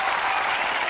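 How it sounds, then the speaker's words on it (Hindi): A studio audience on a comedy talk show claps loudly and steadily for actor Kartik Aaryan's entrance, a dense wash of continuous applause with no voices standing out. "जोरदार तालियां एक बार कार्तिक के लिए।"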